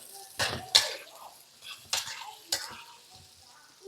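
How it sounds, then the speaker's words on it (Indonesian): Garlic and shallots sautéing in a pan, a soft background sizzle broken by several sharp clanks and scrapes of a spatula stirring against the pan, close and moderate. "Tumis bawang putih, bawang merah dulu."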